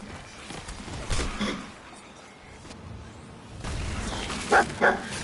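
A companion dog barks in a wasteland survival video game, two short sharp barks close together near the end, over a quiet background with some earlier muffled thumps.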